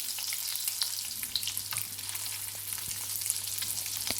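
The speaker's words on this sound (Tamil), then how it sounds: "இப்போ இந்த முட்டையை 2 சைடும் நல்லா மசாலா கோட் ஆகிற மாதிரி ஃப்ரை பண்ணிக்கலாம்." Masala-coated boiled eggs fry in a pan over medium flame, a steady close sizzle and crackle with occasional faint stirring clinks and no talking.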